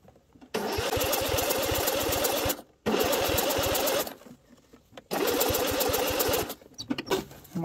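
A small engine pull-started by cable sputters to life in three separate bursts of loud, rapid chugging, with short quiet gaps between attempts.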